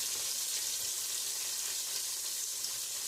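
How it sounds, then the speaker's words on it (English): Refried beans sizzle and fry in hot oil in a pan, a steady, dense crackling hiss that continues evenly throughout with no voices. "as long as it's sizzling good, you put it on one side of the pan, not in the middle"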